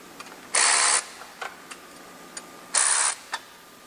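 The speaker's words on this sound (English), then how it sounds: "we want to loosen the two 10mm bolts on the bottom side" A ratchet wrench loosens 10mm bolts on a Jeep 3.6L turbo crossover pipe, giving two short bursts of rapid clicking with a few small metallic taps between them, close and clear.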